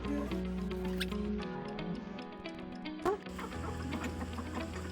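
Country chicken clucking near a house, a few short clucks and squawks scattered over a busy tonal background, fairly faint, with no speech.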